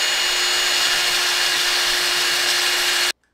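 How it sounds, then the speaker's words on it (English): A bolt chucked in a drill spins while being sanded smooth, a steady close whirring hum with a gritty abrasive rub, running evenly for three seconds before stopping abruptly. "I put the bolt into the drill and sanded it smooth."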